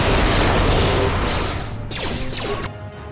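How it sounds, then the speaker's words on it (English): Loud plasma grenade blast in Star Wars KOTOR 2, a sustained roaring burst that fades over a few seconds with crackling, sweeping after-tones before cutting off, no talk. "I would like to throw at this guy a plasma grenade."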